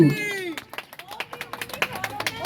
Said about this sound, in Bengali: অসাধারণ, সবাই একটা হাততালি চাই কিন্তু।